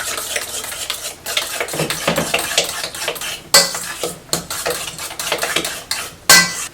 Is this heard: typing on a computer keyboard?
no